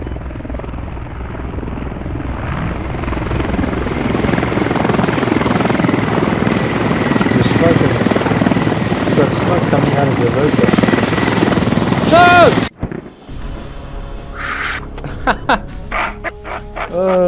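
A helicopter in the video game Squad drones with a loud, steady rotor whir that cuts off abruptly near the end, followed by quieter game sounds and brief chatter.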